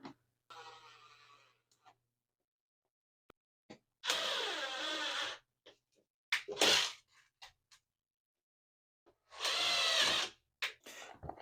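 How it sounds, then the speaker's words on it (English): A power drill bores through the flange of a plastic shower pan in a direct-to-stud shower kit install, with two loud bursts of drilling and brief handling noises between them, close by and alone. "Make sure when you're drilling not to get into the stud, just the shower pan on the flange"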